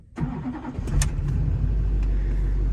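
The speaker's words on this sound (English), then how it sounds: "start the vehicle" A Chevy 2500HD Duramax diesel truck engine cranks and fires up, then settles into a loud, steady, low idle rumble heard close by.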